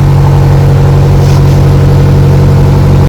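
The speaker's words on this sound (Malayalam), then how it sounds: "എക്സോ സൗണ്ട് ഒന്ന് കേട്ടിട്ട് വരാം അല്ലേ" A BMW M5 Competition's V8 thrums through its exhaust with a loud, steady, deep drone held at constant revs for a few seconds, close by and with no voices.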